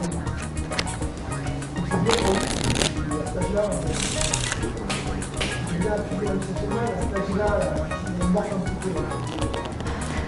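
A deck of playing cards is handled and shuffled at a magic table, giving bursts of riffling and shuffling with a voice talking underneath.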